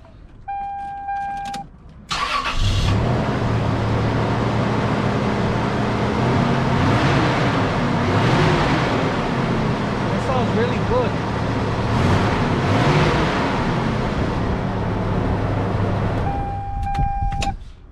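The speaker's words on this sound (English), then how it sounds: "Now we're going to start up the vehicle." A 1996 Toyota Tacoma engine cranks over and catches, then settles into a loud, steady idle close by that runs for about fifteen seconds before being shut off.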